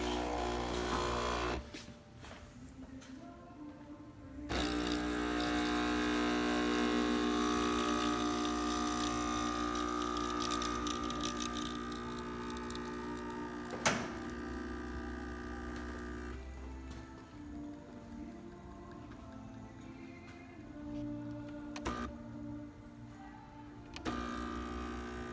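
A DeLonghi EC68 espresso machine with a replaced pump running, a steady close mechanical hum and pump drone that swells after a few seconds, with a sharp click partway through and faint background noise.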